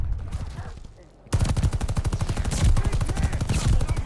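Volk rifle, built as an SMG, firing in Call of Duty: Vanguard battle royale: after a quiet second, a long rapid automatic burst of close, loud shots in an even fast rhythm until the end.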